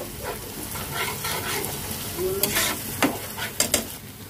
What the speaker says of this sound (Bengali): হাফ টিস্পুন কাশ্মীরি লঙ্কার গুঁড়ো দিয়ে ভালো করে নেড়ে নিচ্ছি আমি।